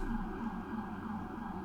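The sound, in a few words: siren in the background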